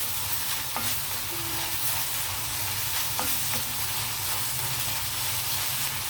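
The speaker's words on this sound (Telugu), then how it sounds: "అల్లం వెల్లుల్లి పేస్ట్ ఇది కూడా ఇందులో బాగా కలిపేసి వేగలేద్దాం" Chopped onions and ginger-garlic paste sizzle steadily in hot oil for a mushroom curry, a continuous fry hiss with a few faint clicks of a stirring spoon against the pan.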